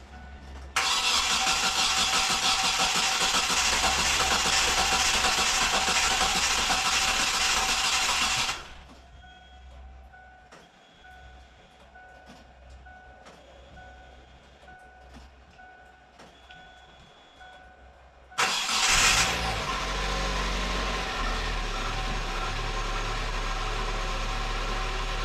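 Car engine with an empty fuel rail cranks and catches, then idles loudly and steadily for several seconds, cuts out to near quiet, and a second start brings it back running strongly, all close to the microphone.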